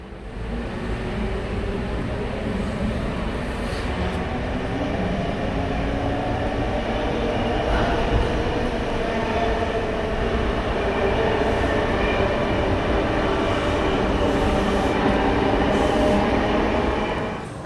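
A Sydney K-set train runs steadily, heard from inside the driver's cab car: a continuous loud rumble and rolling rail noise with faint squeals and rattles, and no pauses.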